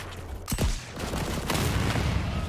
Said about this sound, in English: my grenade launcher sucks